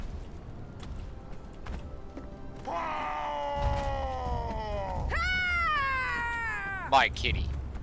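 A cat in Conan Exiles gives two drawn-out, wavering meows close by, the second higher and ending in a sharp upward cry, over a low background rumble.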